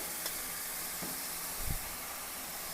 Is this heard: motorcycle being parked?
no